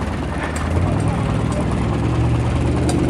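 An oil field engine runs on a rig at a tractor show, giving a loud, steady, throbbing drone with a rhythmic pulse that carries on without a break.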